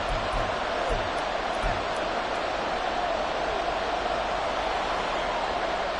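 A large football stadium crowd roars steadily late in the fourth quarter near the goal line, a broad sustained wash of cheering that stays even and distant throughout.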